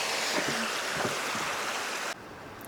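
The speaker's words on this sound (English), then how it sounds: "There's a river down there." A river flowing below a bridge in Conguillío National Park, Chile, heard as a steady rushing wash of water with faint low thumps. The sound cuts off abruptly near the end.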